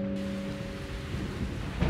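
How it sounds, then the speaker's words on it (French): Steady rain pours and thunder rumbles low throughout a cartoon thunderstorm around a castle, a continuous dense wash of noise with a faint tonal hum beneath. "Malgré le bruit de l'orage qui emplissait le château"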